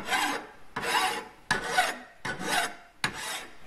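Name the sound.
filing a knife edge onto a steel spring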